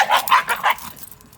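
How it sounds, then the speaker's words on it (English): Stray dogs in Durres, Albania give a quick burst of three or four sharp yips and barks nearby, then fall quiet. "There's all these stray dogs and they just don't leave her alone."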